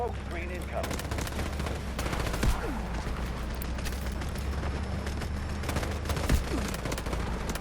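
Rapid bursts of gunfire crack at long range in the shooter game Delta Force, with repeated shots and low rumbling under occasional talk.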